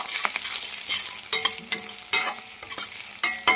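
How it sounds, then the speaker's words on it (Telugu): A spoon stirs a gobi manchurian mixture of cauliflower, turmeric, salt and soy sauce in a pan. It makes repeated sharp clacks and scrapes over a light sizzle, close and loud in an uneven rhythm, with no talking. "స్పూన్ మొత్తం వేసుకొని కలిపేసుకోవాలి"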